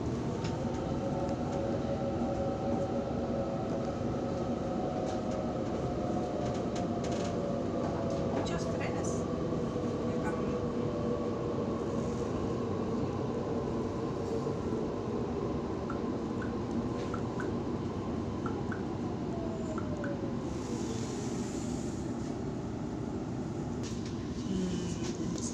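A Sydney T3 Bankstown Line train pulls into Sydenham station with a steady low rumble and rising, falling whine, heard from inside the carriage, while an automated announcement plays over it.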